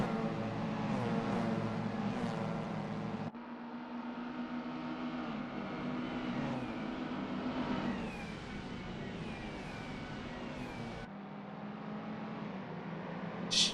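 Sim racing car engine in a video game race on the Bikernieki oval, revving and accelerating in sweeping rising and falling pitches, with sharp cuts between gear changes or camera views.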